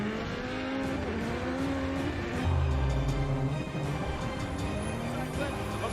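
A drift car slides through a corner during Formula Drift knockout qualifying at Long Beach, engine droning loud and continuous with tire noise, while a commentator talks over it throughout.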